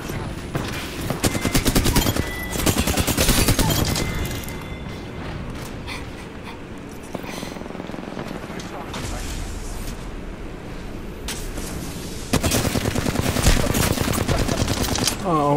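Sustained automatic gunfire in the battle royale shooter Apex Legends, rapid bursts crackling loudly over several seconds with short pauses between volleys, a voice talking underneath at times.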